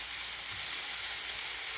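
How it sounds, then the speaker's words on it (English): Bok choy fries in a pan, a loud, steady, hissing sizzle that continues evenly throughout without speech. "You hear the frying?"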